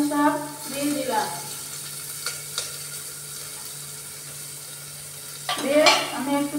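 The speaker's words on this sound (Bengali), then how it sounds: "একটু নাড়াচাড়া করে নিচ্ছি।" Chopped ginger, garlic and onion stirred in a pan, with a faint sizzle under a steady hum, broken by two scraping bursts of stirring at the start and end; a voice speaks briefly near the start.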